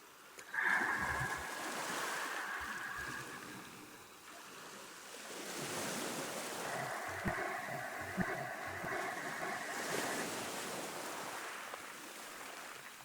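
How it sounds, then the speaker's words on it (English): Slow ujjayi breaths drawn through a constricted throat during pranayama make a soft, ocean-like rushing hiss, swelling and fading in long waves, with one breath near the start, a pause and then a longer drawn-out exhale. "with the pranayama, Ujjayi, channeled breathing, creating that beautiful ocean sound."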